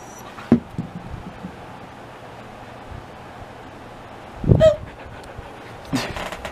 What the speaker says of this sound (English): Alright, that's enough of the dog.